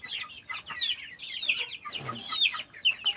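Rhode Island chickens cluck and squawk in a backyard, a string of close, repeated clucks with a few sharper calls, no speech over them.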